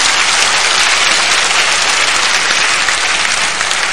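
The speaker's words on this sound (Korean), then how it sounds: "우리 촬영하시는 분을 위해서 박수 한번 해주세요." A church audience gives a loud, steady round of applause for the cameraman, thick continuous clapping from many hands close by with no talk over it.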